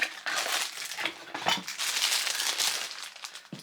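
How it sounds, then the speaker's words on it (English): Paper prompt cards being shuffled by hand, a dense run of crisp riffling and crinkling card noise close by, continuous with a few sharper flicks and no talking. "Again, I'm going to do a bit of a shuffle."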